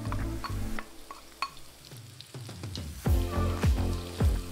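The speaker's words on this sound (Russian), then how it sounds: "добавляем 2-3 столовые ложки растительного масла и выкладываем жариться репчатый лук и морковь" Onion and carrot frying in a few spoonfuls of vegetable oil in a hot pan, a soft steady sizzle broken by clinks and scraping strokes of stirring.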